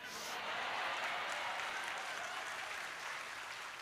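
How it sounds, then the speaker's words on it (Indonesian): Audience applause at an Indonesian religious lecture by a preacher, a dense steady wash of many hands clapping throughout, loud and continuous. "Jangan tepuk tangan dulu, sedih nanti ceritanya."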